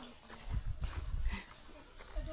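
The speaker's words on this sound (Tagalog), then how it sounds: "May kabayo." A horse walks along a muddy trail in Quezon Province, its hooves giving a few soft, close clip-clops over faint insect chirps and distant ambience.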